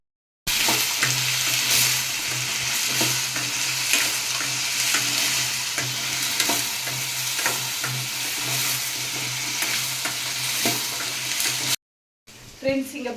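Onion, garlic and ginger sauté in a hot pan, giving a loud continuous sizzle with stirring scrapes throughout, a short pause near the end, then a brief resumption.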